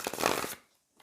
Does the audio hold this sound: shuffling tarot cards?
yes